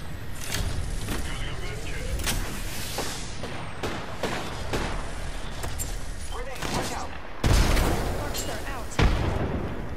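Apex Legends gunfire rattles almost without pause, dense bursts of sharp shots near and far, with two louder heavy impacts toward the end and constant battle noise throughout.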